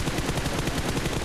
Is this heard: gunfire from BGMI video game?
yes